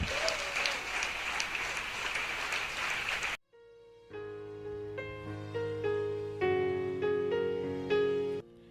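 A church congregation claps and acclaims for about three seconds, a dense, steady burst of applause that cuts off abruptly into sustained keyboard chords.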